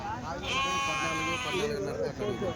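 A sheep bleats loudly and close by at the weekly sheep and goat market in Kadiri, a long wavering call, with a second fainter bleat following.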